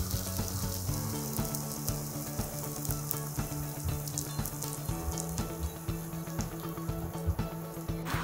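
Sama rice chilla batter in a pan with desi ghee and oil, sizzling and crackling steadily and loudly for the whole stretch, with small pops scattered through it.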